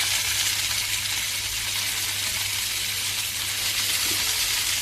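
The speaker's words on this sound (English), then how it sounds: "Oh yeah, that's a good sizzle that we're looking for." Meat searing in a hot pan in a Vietnamese home kitchen, a steady, bright hiss of frying that runs unbroken and close, with no voices over it.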